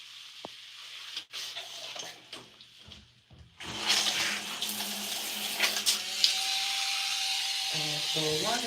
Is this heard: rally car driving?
no